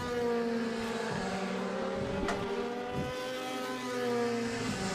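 A DTM race car at Hockenheim during qualifying, its engine howling loud and steady with shifting tones, a sharp crackle and a dip in pitch as it passes through a gear change.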